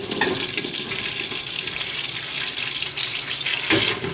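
Chopped onions dropped into melted butter in a pan for corn chowder hiss and sizzle steadily, a close, continuous frying noise with brief louder spits of crackle, and no talking.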